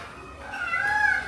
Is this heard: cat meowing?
yes